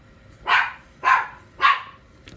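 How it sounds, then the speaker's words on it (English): A dog barks three times in an even rhythm, each bark loud and sharp against a quiet background, with a faint fourth sound at the very end. "I got a dog barking."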